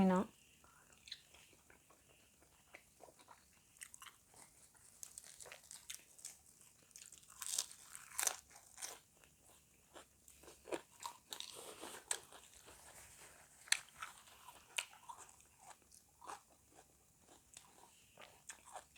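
Someone indoors eats khanom jeeb dumplings with fresh vegetables, with close, steady crunching and chewing running throughout and quiet speech now and then.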